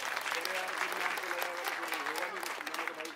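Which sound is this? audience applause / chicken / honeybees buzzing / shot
audience applause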